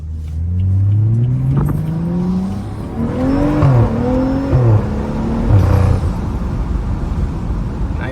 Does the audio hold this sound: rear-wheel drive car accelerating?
yes